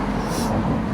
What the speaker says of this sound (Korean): 여러분 차 소리가 많이 들리죠?